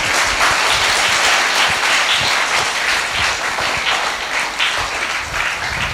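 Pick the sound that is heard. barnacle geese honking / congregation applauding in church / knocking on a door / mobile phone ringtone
congregation applauding in church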